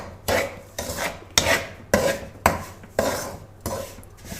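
Milk powder being mixed by hand into dry semolina halwa in a pot off the heat, a rhythmic series of about eight scraping, rasping strokes, each with a sharp onset and a short fade, close and unaccompanied.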